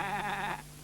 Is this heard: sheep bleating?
yes